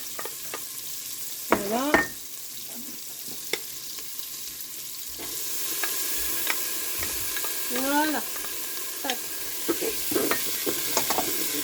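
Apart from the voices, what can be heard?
onions and shallots frying in salted butter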